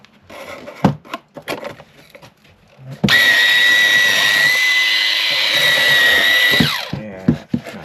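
PATUOPRO cordless shears cutting, a loud high-pitched electric motor whine with gearbox hum starting abruptly and running steadily for about four seconds before winding down, preceded and followed by handling clatter.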